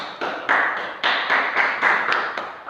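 A school class in an Islamic creed and ethics lesson claps together in a few loose bursts, fairly close, each swell rising and fading in a ragged rhythm with no talking.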